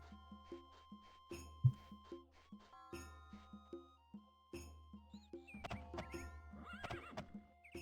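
Horse in the Daggerfall video game, with repeated neighs and whinnies over a rhythmic clip-clop of hooves and a low drone, the sounds growing busier and denser toward the end.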